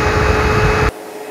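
A SEBO Automatic X8 upright vacuum cleaner roars loudly with a broad airy rush for about a second, then cuts off sharply, leaving only a faint low hum.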